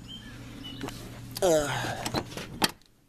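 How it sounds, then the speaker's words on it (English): A wrecked Ford Taurus door latch clicks and the stiff door swings open with a creaking, rattling sweep, followed by a short knock, over low steady engine hum. "Doors are a little bit harder to open."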